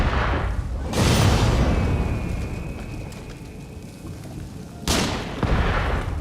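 Gunfire in the video game Nioh 3, set in Kyoto, with two loud booming shots a few seconds apart over a steady rumbling background.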